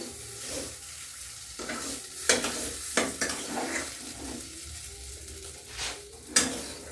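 Steamed, mashed flat beans fry in oil in a wok, with a steady sizzle broken by repeated scraping strokes of a spatula against the pan.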